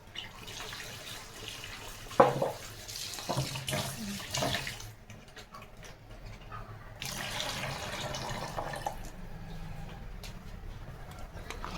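Water gushes from a tap over cut pumpkin pieces being washed in a sink, a continuous splashing rush with a few louder clunks and swishes as the pieces are handled.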